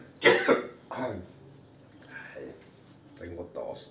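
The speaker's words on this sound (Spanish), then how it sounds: "Tengo tos" A few short coughs break through near the start, followed by murmured talking and throat sounds at a moderate, close level.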